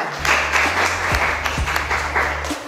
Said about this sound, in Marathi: ह्यांच्यासाठी बी टाळ्या वाजवा